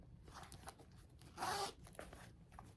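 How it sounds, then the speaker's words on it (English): Someone runs the zipper on the pocket of a Coach canvas wallet with leather trim, giving one short, close, raspy zip against faint room noise. "Got a zipper pocket here."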